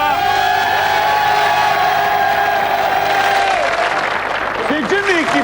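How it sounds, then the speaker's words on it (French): French game-show studio audience from 1997 applauding loudly, a sustained dense wash of clapping and cheers under broadcast music tones, with voices speaking toward the end. "je voudrais qu'on applaudisse très fort ces deux équipes"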